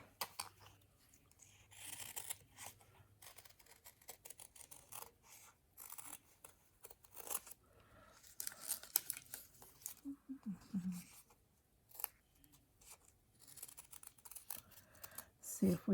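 Paper being cut with scissors to shape a flower, soft intermittent snips and crinkling throughout, with quiet talk in the background.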